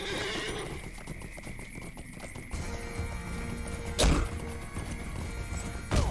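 Horse in the Lord of the Rings Online game, a whinny followed by galloping hoofbeats and a couple of sharp thumps, moderately loud with no talking.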